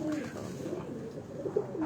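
A pigeon of a Lahore rooftop breed coos softly in low repeated murmurs, steady background noise around it and a couple of brief louder swells near the end.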